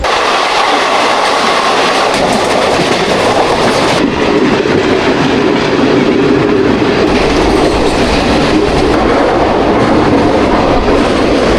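The Paharia Express passenger train runs on rails with a loud, continuous close rumble and clickety-clack wheel rhythm that holds throughout.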